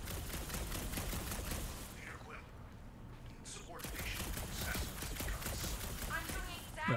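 Rapid game gunfire from the Guardians of the Galaxy video game rattles in dense bursts through most of the stretch, loud and close, with a brief lull midway and voices talking over it.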